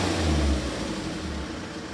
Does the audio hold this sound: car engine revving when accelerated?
yes